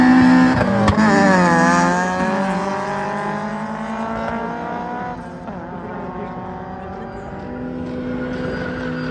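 A race car accelerates hard at a drag race event, its engine screaming upward in pitch, dropping at gear changes, then settling into a sustained loud roar.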